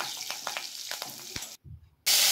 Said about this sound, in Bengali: দেখুন কড়াইতে দিয়ে দিয়েছি সাদা জিরে আর কয়েকটা কাঁচা লঙ্কা